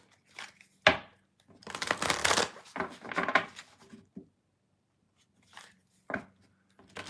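Tarot cards are shuffled up close in quick, crisp bursts of riffling and slapping, separated by short silences and a few sharp taps.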